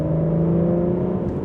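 Aston Martin V12 engine revving around 3,500 rpm while warming up, a steady, loud, close mechanical drone with a constant low hum and no voices.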